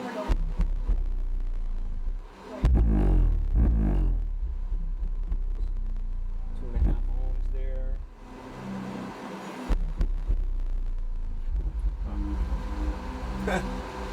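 A Black Brick Audio Heavy Hitter 12 subwoofer, powered for a dyno-measured demo, pounds out deep, loud bass notes in several bursts with brief pauses between them, and a voice speaks over part of it.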